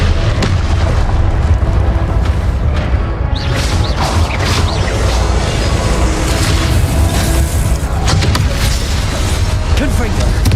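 Confringo blast spells exploding in the game Hogwarts Legacy, loud booming bursts over a dense rumbling battle mix, with a voice shouting spell names throughout.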